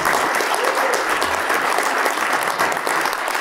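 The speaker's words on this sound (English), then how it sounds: "Can we get a really warm round of applause for our panel?" Warm applause from a conference audience for an HDR post-production panel, a steady dense clatter of many hands clapping close by for the whole stretch with no talk over it.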